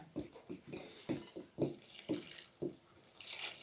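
Water is poured in short splashing bursts into a pot of flour while dough is being prepared, several close irregular pours about half a second apart, ending in a steadier trickle, with no talk.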